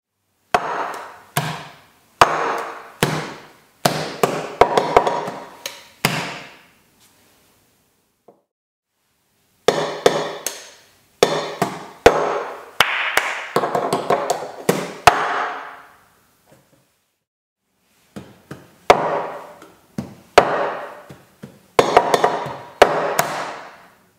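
Plastic cups tapped and slapped on a table in an 8-beat rhythm pattern, with several short repeated sequences of crisp knocks separated by pauses, played close with no talking.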